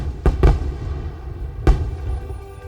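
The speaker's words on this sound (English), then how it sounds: "while the fireworks light the summer sky," Fireworks burst in a summer night sky over a city downtown waterfront, with three booming explosions, two close together and then a third, each followed by a rumbling fade.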